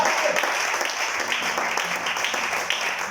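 A church congregation at an evening service applauds and cheers for Jesus, a dense, steady wash of clapping and crowd acclaim lasting throughout.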